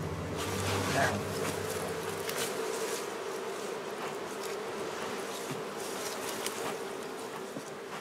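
Honeybees buzz densely around a yard of some 200 beehives in Cuba, a steady close swarming drone that continues throughout.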